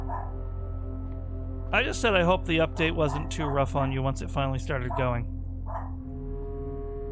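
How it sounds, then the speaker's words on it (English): A pet dog barks and yips in a rapid burst of sharp calls behind a man's speech, carrying on for a few seconds at moderate loudness before fading. "Sorry for my dog. Someone just left the house and he always barks as if to demand them to come back."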